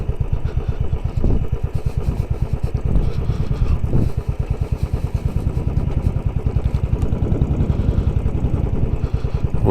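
Royal Enfield Classic 500 single-cylinder motorcycle thumping steadily while being ridden, its rapid even engine pulses loud and close throughout with no talk.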